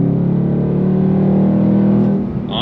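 Engine of a 2025 Ford Mustang Dark Horse roaring loud and steady under throttle in fourth gear, then blipping through a quick rev-matched heel-toe downshift as it slows; no talking.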